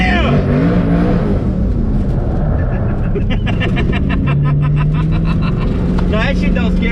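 A twin-turbo Coyote V8 in an S550 Mustang roars loudly under hard acceleration, a rising engine drone that builds through the pull, with voices talking excitedly over it.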